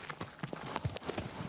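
Hooves clip-clop at a steady trot for a horse in Shadow of the Colossus, a continuous rhythmic clatter over a soft ambient backdrop, with no talking.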